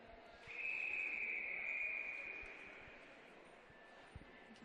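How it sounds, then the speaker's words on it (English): A referee's whistle at an indoor netball show court during a Samsung Premier League match, one long steady blast of about two seconds over a low murmur of crowd and court ambience. "And you can hear the whistle now."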